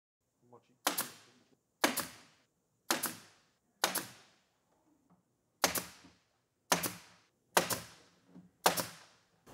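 Eight sharp nail gun shots fired into a cabinet face frame during base lazy Susan assembly, each a crisp loud crack with a short ringing tail, spaced about a second apart with a pause midway.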